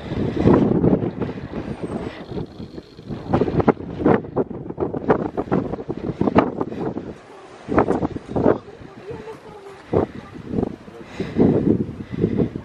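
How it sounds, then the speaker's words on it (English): Strong gusting wind buffets the microphone at a high outdoor viewpoint near the Hermannsdenkmal in Nordrhein-Westfalen, coming in loud irregular bursts with brief lulls, and a person talks intermittently over it. "It's very windy, but look at these views."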